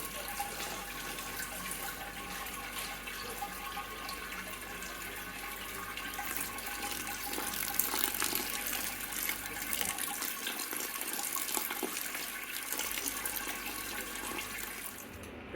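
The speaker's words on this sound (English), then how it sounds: "And just pour in with a jug." Brewing water pours steadily from a jug into a large pan on a hob while making an oatmeal licorice milk stout, a continuous close splashing gush with no talking.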